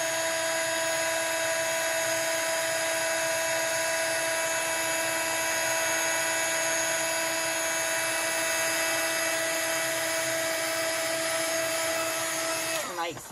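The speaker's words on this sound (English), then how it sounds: "I'm just moving my heat gun over the image." A heat gun blows steadily close by while melting embossing powder on a stamped card background, a constant whirring fan hum with a high whine, shutting off right at the end.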